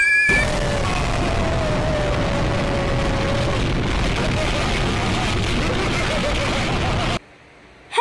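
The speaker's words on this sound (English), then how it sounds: "What's that explosion?" A loud, sustained roaring blast fills the space, noisy and continuous, with a faint voice-like cry at the start, then cuts off abruptly.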